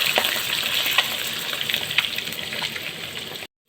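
Sliced pork liver fries in hot oil in a pan, a dense steady sizzle and crackle with scattered pops, loud and close, before it cuts off abruptly.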